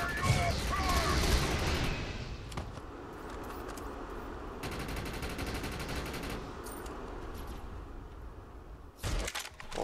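Rapid gunfire in the shooter game Defiance, including a sniper rifle, rattles through a dense, busy mix over the first seconds and fades into steady game noise, with a sharp burst near the end and a voice talking over it.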